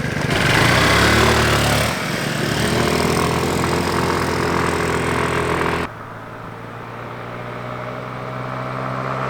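Small GY6 scooter engine revving hard on new pavement during a high-speed run, a loud, buzzing drone that holds steady, then drops in level as it pulls away, no talk.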